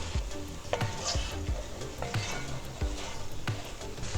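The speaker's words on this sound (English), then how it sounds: "I'm going to nicely saute the lamb pieces" Lamb pieces sautéing in a pan, a dense sizzle with regular low thumps and scrapes as the meat is stirred and turned, close and loud with no speech.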